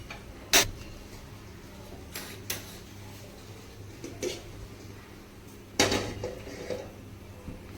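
A metal kadai is set on a gas stove, producing sharp metallic clanks at scattered moments, two of them louder, over a quiet low hum.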